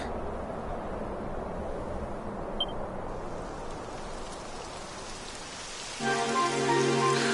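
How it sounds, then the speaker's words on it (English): Steady rain hissing on surfaces in Dragon Quest XI for several seconds, then a brighter layer of tonal game sound joins near the end. "It would have to go and start raining, wouldn't it?"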